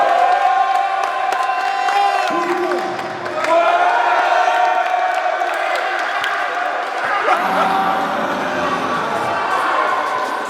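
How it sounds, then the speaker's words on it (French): A crowd at a basketball event in Le Mans cheers, whoops and shouts for a contestant, loud and continuous, with voices rising and falling throughout. "Alors si vous voulez que ce soit lui qui gagne, il faut faire du bruit les gars."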